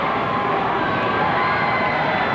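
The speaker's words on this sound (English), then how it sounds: "Crowd really making some noise now here at Hazelton Area High School" Basketball crowd at Hazleton Area High School roaring and cheering continuously during a 1997 high school game, a dense, loud wall of voices with no pauses.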